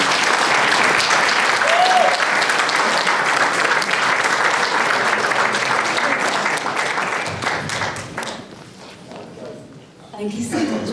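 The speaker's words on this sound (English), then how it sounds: "A round of applause for the" A dinner audience at a memorial lecture applauds a speaker invited to the stage, loud sustained clapping that thins out near the end before a voice begins.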